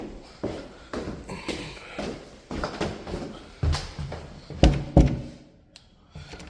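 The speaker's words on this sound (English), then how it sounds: "I'm knocking because honestly I haven't walked in here since I got here" A professional carpet cleaner knocks on a door inside a St. Louis home before entering: a series of dull knocks in loose groups, close by, growing louder toward the end, with faint room noise between them.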